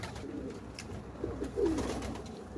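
A pigeon coos softly a few times nearby, low throaty calls over a quiet outdoor background.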